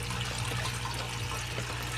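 Water pours steadily out of a plastic-bottle biofilter in a crayfish tank setup, a continuous close trickling flow over a low pump hum.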